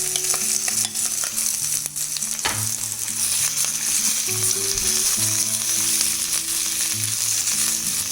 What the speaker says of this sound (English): Fry your bell pepper or capsicum for about 5 to 7 minutes